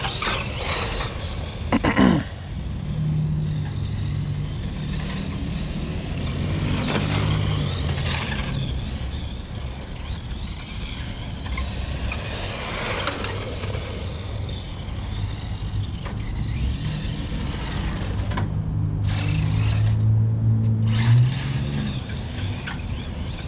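A CEN Racing F450 RC monster truck on a 3-cell 2200 battery whirs and whines as it drives, with steady motor drone, surges of acceleration and creaks from the chassis and suspension, heard near and without talk.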